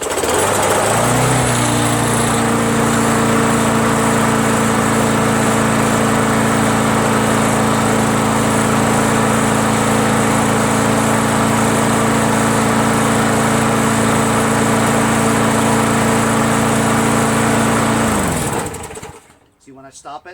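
A Craftsman 21-inch self-propelled lawn mower with a 6.5 HP Tecumseh engine that smokes runs at a steady, loud, close idle drone for most of the stretch, then is shut off and winds down near the end.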